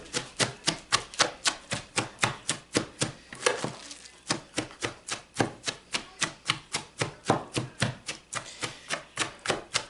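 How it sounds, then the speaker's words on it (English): Vegetables for lacto fermentation being chopped with a knife on a board: steady, rapid rhythmic knocks, about three per second, close and clear with no talking and a brief pause near the middle. "now we're just going to start chopping it"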